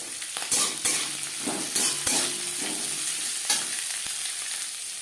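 Bottle gourd peel frying with green chilies in a hot pan, a steady close sizzle broken by several scraping stirs of a spatula, with no talking.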